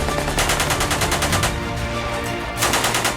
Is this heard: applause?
no